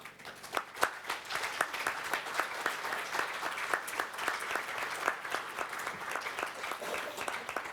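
A closing-ceremony audience gives a round of applause, moderately distant, with crisp individual claps rising from a steady wash of clapping that continues throughout.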